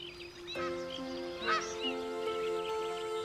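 Canada geese honk repeatedly outdoors, a nasal, overlapping series of calls from several birds at moderate distance, steady and unbroken with no talking.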